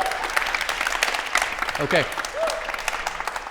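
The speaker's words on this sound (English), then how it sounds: "let's do a big round of applause for Dinesh and Alex" Audience applause rings out at the close of a live debate on whether the Bible is true, a steady patter of clapping from the crowd with a short spoken word over it.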